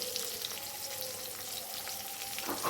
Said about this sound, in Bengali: এবার আমি এটা একটু ভেজে নেবো পেঁয়াজটাকে।